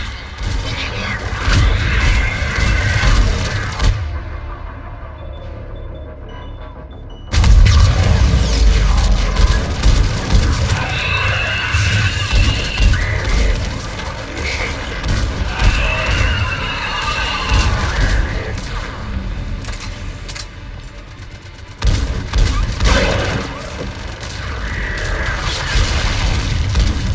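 Heavy explosions and bursts of gunfire from a missile strike and mounted gun in Mass Effect 3, a loud, dense barrage of booms and rumbling impacts continuing through most of the stretch with brief lulls.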